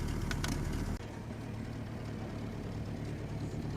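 A car engine rumbles steadily as the vehicle pulls away in the countryside, with a louder surge at first that settles into an even, low drone; no voices.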